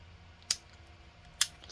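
A Leatherman Free P4 multitool's scissors snap open and then shut, two crisp close metallic clicks about a second apart against a quiet background.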